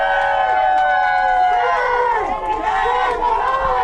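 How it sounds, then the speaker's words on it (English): A protest crowd outside the Asia Society in New York cheers and shouts in a dense, continuous roar of overlapping voices, with raised calls rising and falling through the whole stretch. "Please give a round of applause and make some noise for our kasamas that took that risk inside."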